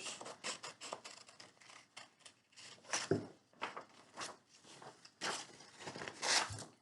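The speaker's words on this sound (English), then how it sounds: "It helps if you hold the paper still and just go around with your scissors." Scissors cutting paper for a giraffe letter-G craft, a quick series of soft snipping and rustling cuts, close and fairly quiet.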